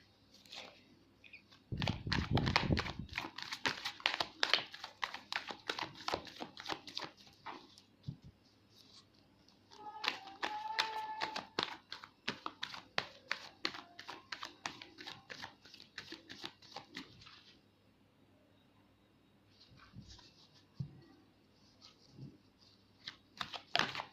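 Tarot cards are shuffled close up in long runs of rapid, crisp riffling flutters, with brief pauses and a quieter final stretch of shuffling.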